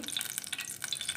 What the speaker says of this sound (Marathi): मोहरी तडतडली की एक चमचा जिरं